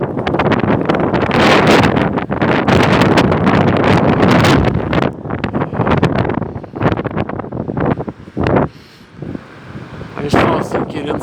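Strong gusting wind buffets the microphone at a beach during a cyclone with rough sea and rain, loud and turbulent in waves, easing briefly before surging again.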